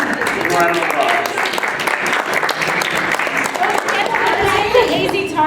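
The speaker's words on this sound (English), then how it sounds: "Thank you for coming, everybody. Give a round of applause." A crowd at the 2013 Phoenix Comicon claps after a Doctor Who kid trivia show, steady close applause with children's voices and chatter mixed in.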